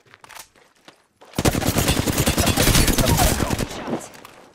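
Rapid video-game gunfire erupts after a few faint taps, a dense automatic burst rattling loudly and continuously for several seconds before cutting off, with sparse clicks around it.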